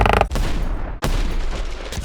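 A LEGO pirate ship's spring-loaded cannon fires with two loud, abrupt booming blasts, each trailing off into a rumbling decay, with no talk over them.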